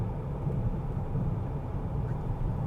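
A 2025 Honda Pilot Elite's engine pulls hard past 4,000 RPM, a steady low drone that stays subdued under cabin and road rumble with no talking.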